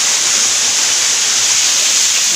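Water streams down through a gap in the rocks at Venuthala Kona waterfall in a cave-like setting, a constant close broadband rush that holds even for the whole stretch without any talking.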